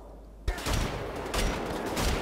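Shotgun blasts in the shooter game Wolfenstein: The Old Blood: a loud sudden shot after a quiet start, followed by dense, continuous gunfire and combat noise with another strong burst midway.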